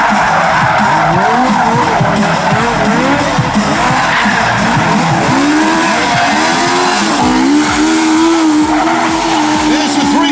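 A car skids through a no-handed 360-degree spin at a Euro Finals event, tyres squealing continuously with wavering engine pitch, loud and close throughout with no pause.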